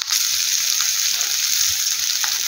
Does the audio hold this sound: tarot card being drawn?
no